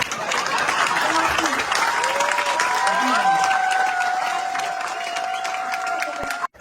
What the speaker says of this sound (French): Si vous voulez, vous applaudissez.